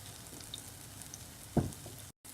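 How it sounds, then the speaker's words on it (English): Urad dal fritter batter fries gently in hot oil, a quiet steady sizzle with one brief louder splatter, close and without talk. "I'm going to make like a circle in the middle just to create a little shape. And let it fry golden brown."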